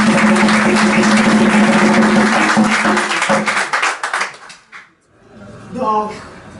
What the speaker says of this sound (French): Et maintenant, je vais vous demander de vous applaudir.